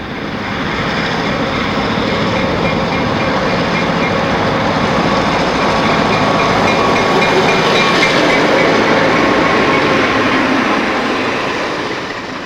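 A B&O Cincinnatian passenger train, led by covered-wagon diesels, rolls along the rails at speed, a steady close roar of wheels and rumble that holds level throughout with a faint rhythmic clatter.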